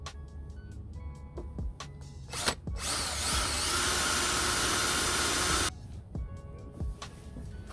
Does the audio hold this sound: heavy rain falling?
no